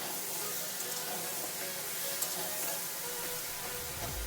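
Fish curry with taro sizzles steadily in a pan over village-style cooking heat, a continuous close frying hiss without pauses.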